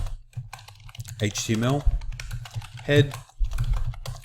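Clicky computer keyboard keystrokes while HTML code is entered for a WordPress theme header, scattered taps heard beneath a man's close, steady speech.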